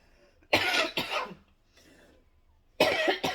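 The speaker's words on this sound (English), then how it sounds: "That lingering cough." Two bursts of harsh coughing, close and loud, separated by a quiet pause with a faint breath between them.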